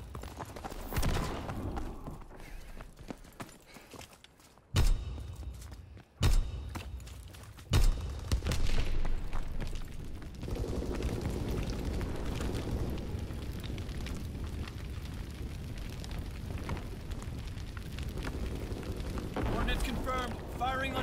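Artillery strike in the World War II shooter Call of Duty: WWII: three heavy, close booming impacts land in quick succession amid a steady rumble of battlefield noise that continues afterward.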